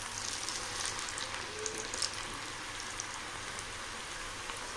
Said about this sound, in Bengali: এইভাবে আমি কিন্তু দেখতেই পাচ্ছ একদম হাই হিটে ভাজছি